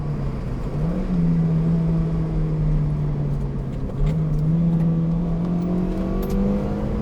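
A 2002 Toyota MR2 Spyder's small engine revs while driving, its drone rising steadily through the gears, dipping briefly at two shifts before climbing again, loud and continuous inside the car with no talk.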